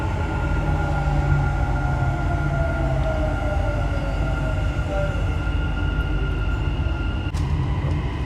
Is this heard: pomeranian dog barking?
no